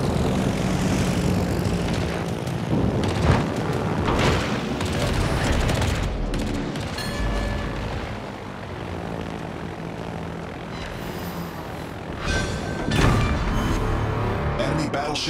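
Aircraft engines drone steadily through a World of Warships naval battle, a continuous loud propeller roar with booming explosions and gunfire layered over it, while game voice callouts break in.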